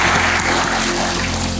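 Church congregation clapping for the Lord during an Indonesian Ascension Day service, a steady dense wash of applause filling the room over a low hum, with no voices heard.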